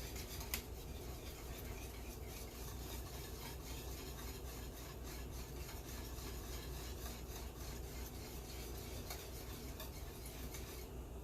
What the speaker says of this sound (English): And whisk it real good so it's nice and creamy.